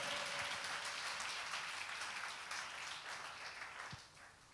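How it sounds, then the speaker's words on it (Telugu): Dense applause from a congregation at a Telugu church sermon rolls on steadily for a few seconds, then thins and fades toward the end, with no talking. "చప్పట్లు కొట్టండి ఒకసారి బిగ్గరగా"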